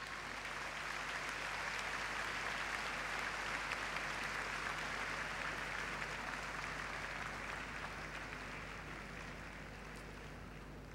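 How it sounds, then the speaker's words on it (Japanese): Sustained applause from the audience at the 2007 Japan International Dancing Championships honoring the seven Latin ballroom finalist couples, a dense even wash of clapping held steady throughout before easing slightly at the end. "会場の皆様、絶大な拍手をお送りください。"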